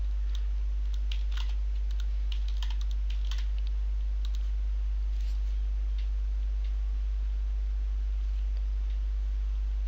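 Password being typed on a computer keyboard: faint, irregular clusters of light key clicks over a steady low hum.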